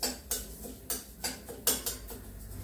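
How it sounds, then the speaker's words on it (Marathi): Urad dal dry-roasting in a pan, with a utensil scraping and stirring the grains in a steady rhythm of about six sharp, gritty strokes, close and fairly quiet. "ते आता पूर्णपणे तांबूस अशी होईपर्यंत डाळ मी भाजून घेणार आहे"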